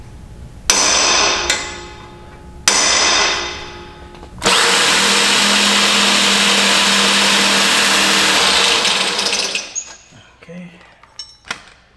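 Power drill boring a 3/8 hole through a metal suspension relocation bracket on an EcoDiesel Jeep Wrangler, two short bursts followed by a long, loud continuous whine that cuts off, then faint clanks.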